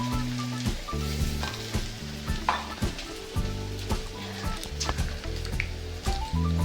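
Mustard, poppy seed, coconut, green chilli, salt and turmeric paste frying in a pan for a spiced rohu fish dish, a steady close sizzle broken by repeated stirring scrapes, with no talking.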